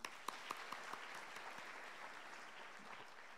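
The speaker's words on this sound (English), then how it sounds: "Shall we applaud again?" Graduates and guests at a university graduation ceremony in Nairobi applaud again; faint, distant, steady crowd clapping in a large space with a few sharper claps standing out early on.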